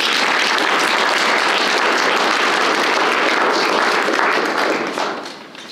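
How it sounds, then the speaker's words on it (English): A loud, dense round of audience applause at a university history department student recognition ceremony holds steady for about five seconds and then fades quickly. "Big round of applause for them."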